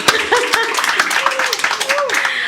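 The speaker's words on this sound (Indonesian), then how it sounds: "Tepuk tangan buat Mbak Nina Wijaya dong." A small group claps briefly in a radio station studio during a podcast, the sparse hand claps mixed with speech over them.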